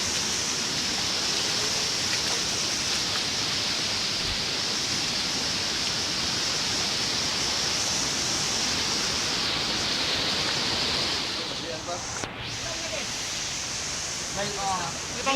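Tagbanakaw Falls, a waterfall roaring as a loud, steady broadband rush close by for the whole stretch, with people's voices briefly audible near the end.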